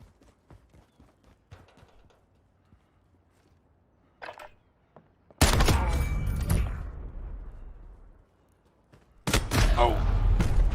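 Gunfire in the video game Call of Duty: sparse faint clicks and taps, then two loud sustained bursts of shooting, each cutting off abruptly.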